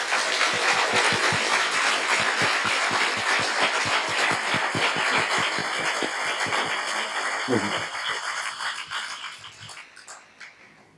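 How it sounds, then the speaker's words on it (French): An audience at an evening conference on capitalism and the environment claps in a rhythmic, unified beat, then breaks into looser applause that tapers off near the end, with faint voices underneath. "Donc je pense qu'on peut applaudir toutes ces personnes."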